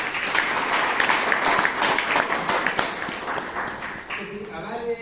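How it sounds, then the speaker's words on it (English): Audience applause at a Toastmasters club meeting in Bangalore, dense clapping filling the room for about four seconds before fading, with a voice starting to speak near the end. "Can you have another round of applause?"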